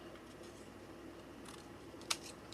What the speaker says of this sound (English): We are going to cut it